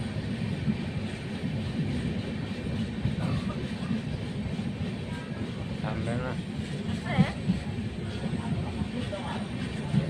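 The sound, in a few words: train departing and running on rails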